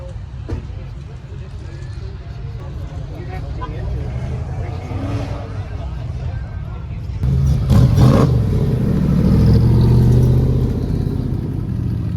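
A modded Subaru fitted with a K20 engine from an RSX Type S runs with a steady low rumble that swells louder partway through, close by, with voices talking over it.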